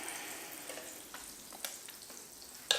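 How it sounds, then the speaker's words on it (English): Faint, quiet sizzling of butter in a hot waffle iron, with a few soft clicks and a sharper tap near the end. "Hear that sizzle? That's buttered."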